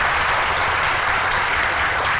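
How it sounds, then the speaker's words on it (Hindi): Loud, sustained applause from an audience at a congratulatory stage moment, a thick continuous roar of many hands clapping close by without a break. "आप भी एक बार जोर से ताली बजाकर"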